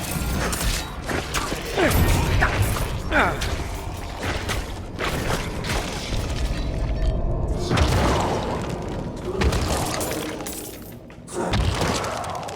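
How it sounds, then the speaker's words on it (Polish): Repeated crunchy bursts of breaking and shattering from a corpse explosion in Diablo 4, with booms and mechanical clatter layered over a busy, loud game soundscape. "ten wybuch zwłok też mógłby się przydać"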